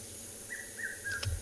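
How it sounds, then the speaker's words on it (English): A red-chested cuckoo calls in the background at dusk in the African bush, giving a few faint, evenly spaced whistled notes over a quiet hiss. "There's a red-chested cuckoo calling in the background."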